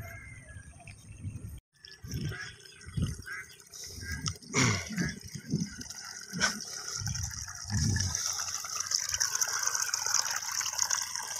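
Irrigation water from an NIA dam canal trickles in a weak, uneven flow, a soft gurgling and splashing with faint drips, fairly quiet and close.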